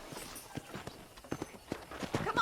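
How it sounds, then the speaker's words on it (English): Horse hooves clip-clop at a walking pace in the Red Dead Redemption video game, a steady run of close, distinct footfalls that grows slightly busier toward the end. "let's see if you can still ride a horse"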